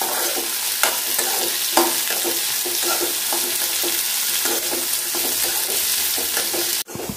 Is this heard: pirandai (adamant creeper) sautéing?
yes